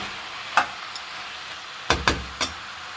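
A spoon stirs Guntur chicken with salt in a frying pan, giving a few sharp scraping strokes, one early and a quick cluster of three near the end, over a low steady sizzle.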